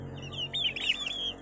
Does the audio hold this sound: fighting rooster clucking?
yes